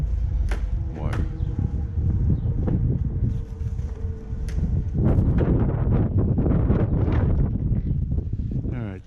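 Outdoor wind gusting hard against the microphone beside a vinyl fence and its tension wire, a loud continuous rumbling roar with rustling and a few sharp ticks, no voice audible.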